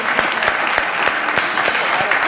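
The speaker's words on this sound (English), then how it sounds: "That stands for a round of applause" Steady, loud applause from an audience at a community unity breakfast honoring a state senator, dense clapping continuing throughout with no pauses.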